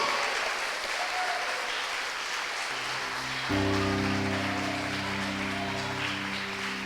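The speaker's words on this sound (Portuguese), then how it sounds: "palmas para Jesus" A church congregation claps steadily in a dense, rain-like patter, and a sustained instrumental chord enters partway through, continuing beneath the clapping.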